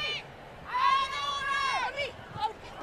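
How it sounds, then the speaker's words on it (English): Rugby stadium crowd at a women's test match between Canada and New Zealand, a swelling roar and shouts from the stands, with a commentator's voice briefly over it. "A little bit of noise from the crowd"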